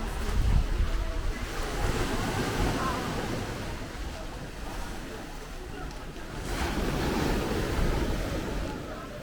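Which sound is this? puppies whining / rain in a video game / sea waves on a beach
sea waves on a beach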